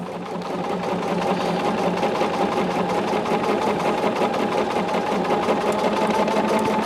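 A sewing machine runs steadily for several seconds, stitching fabric backed with fusible grid for a Nantucket summer bag, with a close, continuous mechanical whir and no talking.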